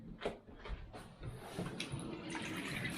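Water running over a dirty automatic air vent from a Vaillant ecoTEC boiler as it is rinsed under a tap, a steady close splashing flow that builds and continues.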